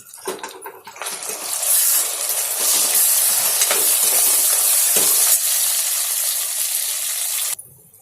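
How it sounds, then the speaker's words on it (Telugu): Grated raw mango stirred into a hot tempering for mango pulihora, a loud steady sizzle and scraping stir running several seconds before cutting off abruptly. "దాన్ని మామిడికాయ కూరని తాలింపులో కలుపుతాము"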